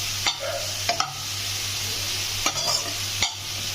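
Onions with a little salt fry in a pan under a constant sizzle, while a spatula scrapes and stirs in four sharp, spaced strokes close to the listener, with no voices.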